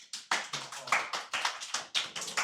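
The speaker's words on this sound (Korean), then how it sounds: "박수." Students in a tutoring academy classroom clap in a small group, about a dozen distinct, fairly quiet claps in an uneven rhythm, with a faint murmur of voices.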